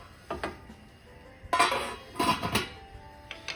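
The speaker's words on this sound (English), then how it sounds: "now that this is boiling, I'm going to get the lid on it" Metal clanks and rattles close by as a lid is set onto a pot of boiling paella, a few sharp clinks followed by a brief scraping settle.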